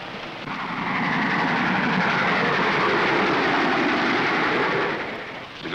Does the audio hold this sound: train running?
yes